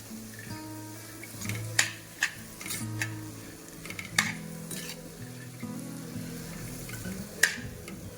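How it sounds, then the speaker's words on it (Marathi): Chigor greens are stir-fried in a pan, with a steady low sizzle and repeated spoon scrapes and taps against the metal at irregular intervals, close up with no voices. "आणि पूर्ण ती भाजी आहे ती छान अशी परतून घ्यायची आहे।"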